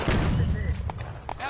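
Tank main gun firing in the video game Firefight on the Eastern Front, with sharp booming shots and rumbling low-end battle noise under a voice speaking German commands.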